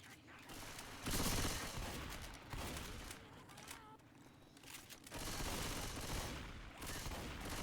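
Rapid bursts of gunfire in a video game tournament match, dense overlapping shots and fusillades filling the clip with brief lulls, while a voice talks underneath.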